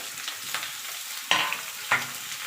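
Pumpkin frying in a pan, giving a soft, steady sizzle while it is stirred, with a few sharper scraping clinks near the end.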